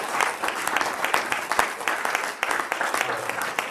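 A seminar audience applauds steadily and densely for several seconds, with many hands clapping close by. Faint talk is mixed into the clapping.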